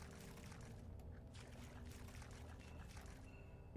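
Water pouring steadily in a video game, a continuous low rushing flow that runs unbroken and fairly quiet throughout, with a brief louder burst at the very end.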